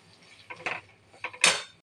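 A spoon whisks two ingredients in a bowl for a kadhai paneer curry, giving a few short clinking, scraping strokes in two quick bursts, fairly close and with no talk.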